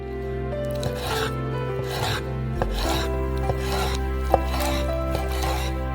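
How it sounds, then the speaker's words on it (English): A knife slices through raw chicken thighs in soft, rasping strokes, with a few light taps against the board, close and unaccompanied by speech. "Cut them into pieces."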